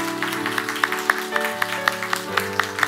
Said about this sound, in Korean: 이런 박수 한번 할까요?